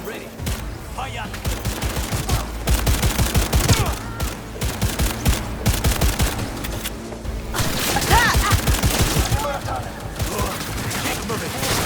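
Heavy gunfire in Cyberpunk 2077 during an assault on an atrium, with dense overlapping bursts and rattling shots from several weapons, loud and continuous, over a low rumble with occasional voices.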